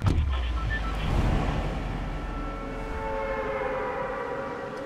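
In the Fortnite video game, the Battle Bus engine sends out a droning, echoing hum with tonal whines over a low rumble, steady and fairly loud for a few seconds, with no talk.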